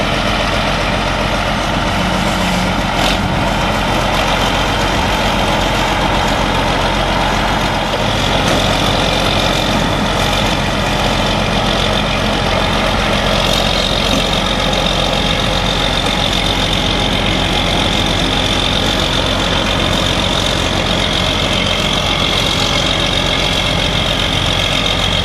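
An Isuzu vehicle's engine runs steadily and loudly up close for a long stretch, a constant droning idle with faint rattles and no talking, after a hurricane at Gulf Shores.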